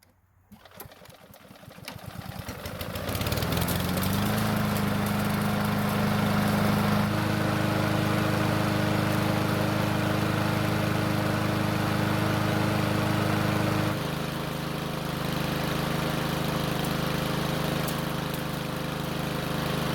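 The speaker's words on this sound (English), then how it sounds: "I do need to get the engine hot" An Ariens lawn mower engine, run hot, starts up and runs steadily at a loud, droning idle, its pitch shifting once partway through.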